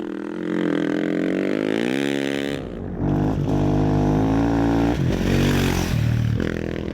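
Husqvarna rally motorcycle engine at the Africa Eco Race 2016 rally raid, a loud, close roar that rises and falls in pitch through repeated revs and gear changes, with a brief dip near the middle.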